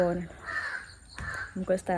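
A crow caws a couple of times outdoors near a home, fairly close, between stretches of someone talking.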